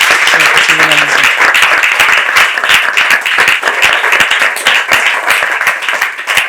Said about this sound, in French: Je veux qu'on applaudisse très fort le pasteur